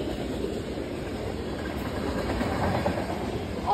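A CN freight train led by four locomotives rumbles past steadily at about 58 mph with a continuous rolling clatter of wheels on rails, no voices.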